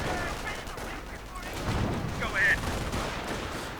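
Machine gun fire crackles in a video game battle, a mix of distant rattling bursts and scattered shots under ongoing battle noise, with some voices in the mix.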